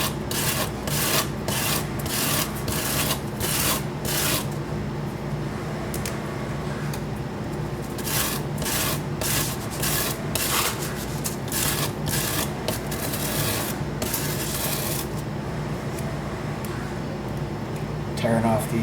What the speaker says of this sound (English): Now I'm gonna bevel that a bit.